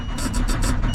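A diesel semi truck engine turns over repeatedly while failing to start after running out of fuel, producing a rapid rhythmic cranking pulse of about five beats in a second over a low rumble.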